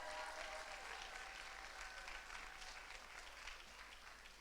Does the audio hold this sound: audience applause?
yes